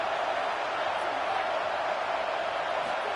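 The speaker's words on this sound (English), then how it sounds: "this crowd trying to help keep them there" Steady roar of a large stadium crowd at a UCLA at Washington college football game, a broad, even wash of noise heard from a distance without pause.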